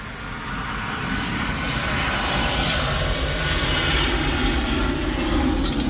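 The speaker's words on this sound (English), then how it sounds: "That's how close the airplane is." Airplane flying close overhead near a Trader Joe's, a loud steady engine roar that swells and holds for several seconds.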